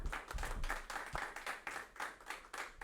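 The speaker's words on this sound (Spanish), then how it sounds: "aplauso para Sebastián" A small group claps for Sebastián at a talk, a quiet, uneven patter of hands in loose bursts that rise and fall over a few seconds.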